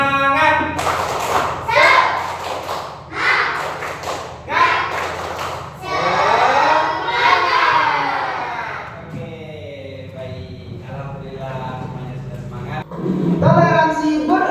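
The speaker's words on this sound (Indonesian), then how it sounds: "tepuk semangat" A class of children doing rhythmic spirit clapping, with sharp patterned claps and thumps in bursts alongside loud chanted voices.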